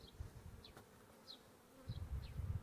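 Honey bees buzz faintly during a beehive inspection, with a few brief whines of individual bees flying past and soft handling noises nearby. Nobody speaks.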